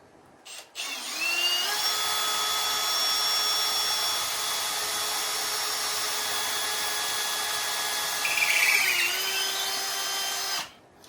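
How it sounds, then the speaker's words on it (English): A power drill drilling a pilot hole and driving screws into wood: one sustained, loud high-pitched motor whine for about ten seconds, with a brief grinding change in pitch near the end before stopping. "drill me a pilot hole. Get the first screw in on this end and then the other one."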